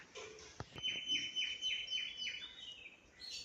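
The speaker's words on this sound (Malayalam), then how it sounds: "ചുറ്റുപാടുള്ള കിളികളുടെ ഒച്ചയും" Birds chirp around a home on a calm, overcast day with no sun or rain. Short, bright calls repeat in a quick series at moderate distance over a soft outdoor background, with no talking.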